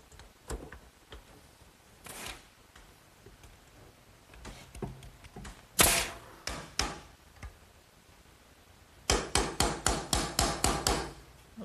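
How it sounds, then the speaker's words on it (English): A hammer drives nails at an angle to toenail a wooden spacer between hangers on a garden swing, first in scattered single blows, then a quick run of about eight sharp, evenly spaced strikes, close up with no talk. "this spacer that I just toenailed in"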